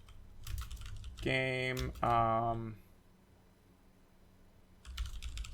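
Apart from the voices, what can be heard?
typing on a computer keyboard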